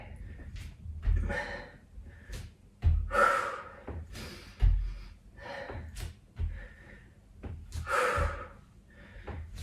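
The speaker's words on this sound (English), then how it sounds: "Keep breathing. Get those nice noisy exhales going." Repeated forceful, noisy exhales in an uneven rhythm, breathy bursts close to the microphone with occasional thumps between them.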